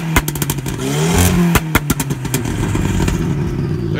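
An Audi A3 8L with a Magnaflow exhaust revs hard nearby. The engine roar is punctuated by a rapid series of sharp, loud crackling pops and bangs.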